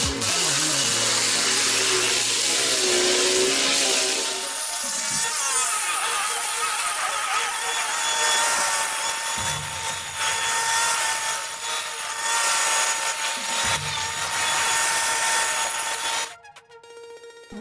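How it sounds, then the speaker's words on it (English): An industrial-grade stump grinder chews through tree stumps and root systems with a loud, continuous mechanical roar and grinding rasp that surges and dips in cycles, ending in an abrupt drop. "With this industrial-grade stump grinder, those pesky root systems are no match."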